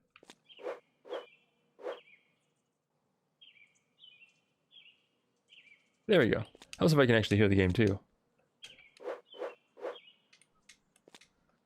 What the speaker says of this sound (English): Right now he's got like birds chirping in the background, some ambient noise kind of thing.